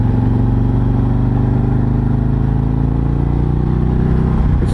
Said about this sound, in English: the stock exhaust does not sound bad at all